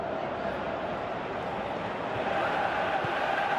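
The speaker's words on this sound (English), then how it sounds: "you can hear how the crowd are reacting to this too" Stadium crowd noise from the football video game Pro Evolution Soccer 2018: a steady, dense roar of many voices that holds at an even level throughout, with no commentary heard.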